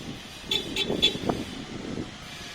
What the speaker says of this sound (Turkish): Şimdi uzaktan aracımızı çalıştırmayı deneyelim.